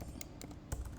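A few quiet keystrokes tap on a computer keyboard while Python code is typed, soft irregular clicks against low room noise.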